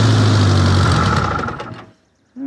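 The engine of a 1953 Farmall Cub tractor runs loud and close with a steady chugging, then cuts out abruptly, leaving a brief silence before a low rumble returns.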